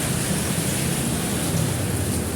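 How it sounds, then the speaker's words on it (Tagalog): Heavy rain pours down in a dense, steady hiss that fills the whole stretch evenly and without pause, with no voices heard. "malakas pang ulan ah"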